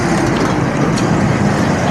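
A vehicle engine idles in a steady, loud broadband rumble, continuous and close with no pauses and no voices.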